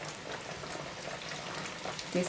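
A small piece of fish fries in a pan, giving a steady, moderately quiet sizzle and crackle that continues without pause.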